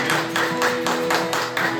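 A church congregation at Sunday worship claps along in a steady rhythm, about four loud, even claps per second, over sustained music notes.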